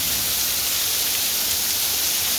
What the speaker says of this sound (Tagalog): Andito na guys ang ulan.